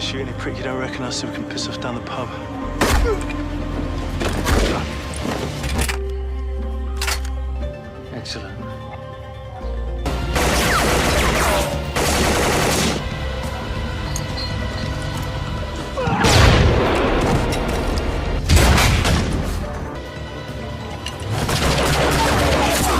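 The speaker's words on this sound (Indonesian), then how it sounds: "langsung bersiap dengan senjata dan amunisinya, lalu maju seorang diri bertempur melawan Hector dan pasukannya" An action film battle scene carries bursts of gunfire, with repeated sharp cracks and volleys. A narrator talks continuously over the shots.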